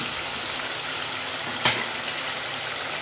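Saag frying in ghee in a pan while being cooked down for saag gosht, a steady soft sizzle with one brief louder crackle partway through, close and alone.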